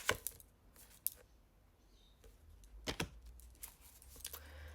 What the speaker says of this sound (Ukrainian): просто попадали ще карти